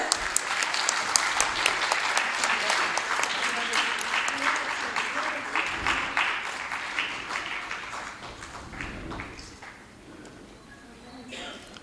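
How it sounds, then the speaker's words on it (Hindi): Audience applause at an international seminar on empowering human resources, steady dense clapping from a crowd welcoming guests, loud at first and gradually thinning out toward the end. "तालियों के साथ स्वागत।"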